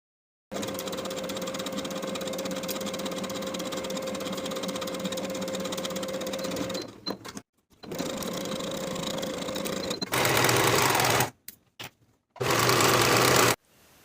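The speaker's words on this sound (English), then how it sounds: "pin together and sew with a 5/8 inch seam allowance" A sewing machine runs steadily for several seconds, stitching a 5/8 inch seam on a summer ruffle tier dress. It stops briefly, then runs again in a few shorter bursts. The sound is close and continuous, with no voices.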